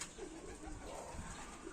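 Racing pigeons cooing faintly in a loft, soft low murmuring calls over a steady background hiss.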